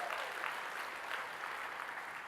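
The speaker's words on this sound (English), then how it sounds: "Give yourselves a round of applause." An audience at a keynote speech breaks into steady, even applause, a dense wash of many hands clapping together, moderately distant and continuous throughout.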